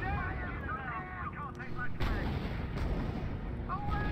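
Artillery blasts and gunfire boom from a battle in the real-time strategy game R.U.S.E., a dense rumbling bed of explosions with a sharp loud impact midway, while electronic announcement tones and chatter sit over the din.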